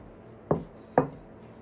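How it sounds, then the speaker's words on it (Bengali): Knife cutting through a hot boiled potato on a plate, two distinct dull taps about half a second apart against a quiet background. "আমি কেটে আপনাদেরকে দেখিয়ে দিচ্ছি"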